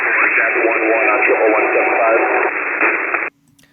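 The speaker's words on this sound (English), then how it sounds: "You could hear the drone noise in the background from the bomber." A band-limited radio transmission from a stealth bomber, a steady hissing channel with a faint drone underneath and voice-like modulation, cutting off abruptly near the end.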